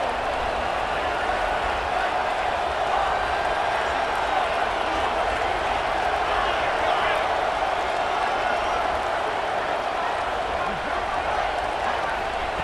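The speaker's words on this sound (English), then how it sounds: "It's early, but this crowd is fired up. Listen to this noise here." Loud, steady roar of a stadium crowd at a college football game between TCU and Boston College, a dense wash of cheering and clapping that runs unbroken throughout.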